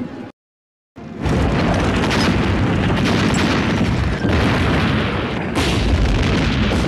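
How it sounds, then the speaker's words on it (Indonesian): Artillery barrage from the German attack in the Stalingrad battlefield film: after a brief silent gap, a loud, continuous roar of booming explosions and bursts fills the scene, with dense overlapping blasts and no clear pauses. "Pasukan Jerman mengawali serangan dengan menghujani tembakan senjata artileri ke area medan pertempuran"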